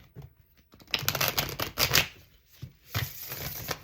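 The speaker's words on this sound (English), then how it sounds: "Let's give these cards a really good shuffle." Stiff cards from a traditional deck are shuffled in a few quick riffling bursts, crisp flutters with short pauses between them.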